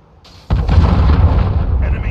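A cruise missile strike in Call of Duty: Modern Warfare lands as a sudden, heavy blast, then a loud rumbling roar that rolls on without pause through the rest of the moment.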